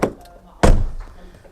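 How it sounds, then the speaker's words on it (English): A 2024 BMW 1-Series car door shuts with a single solid, heavy thunk, loud and close, its low body ringing briefly before fading, preceded by a faint softer knock. "take a moment and listen to the sound of the door"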